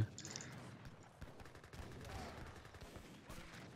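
Rapid Gatling gun fire in the strategy game Age of Empires III, a dense crackling volley of shots at moderate level running throughout amid other battle noise.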